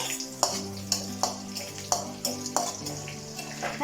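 Green chillies fry and sizzle in a pan with urad dal and masoor dal while they are stirred. Soft regular scraping strokes come about every half second over a faint, steady hiss.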